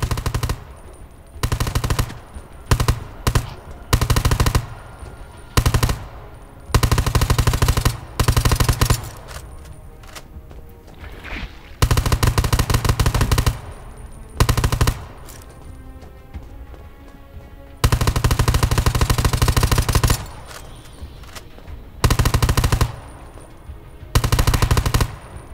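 Machine gun fire aimed at zombies in the video game Undawn, long loud close bursts of rapid automatic shots broken by short pauses, continuing across the whole stretch without speech.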